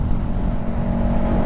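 A 2019 Honda CBR500R motorcycle with an aftermarket exhaust idles and revs close by, a steady, throaty drone with a slight pulsing texture and no voices.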